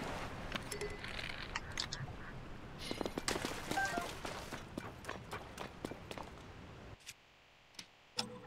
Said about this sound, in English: I was trying to get both the ducks